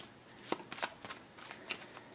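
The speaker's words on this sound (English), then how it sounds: "So we'll give that a shuffle." Cards from the Robinson Crusoe board game are shuffled by hand in a few quick, soft riffling bursts, close and fairly quiet with no talking.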